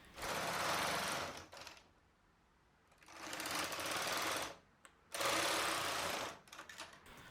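Knitting machine working a sweater body, the carriage making loud rattling passes across the bed in three long bursts separated by quieter pauses.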